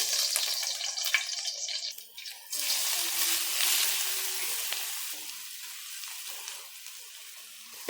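Garlic frying in cooking oil: a steady, bright sizzle close by that swells as the pan heats, with brief stirring and clinks, then a constant crackle.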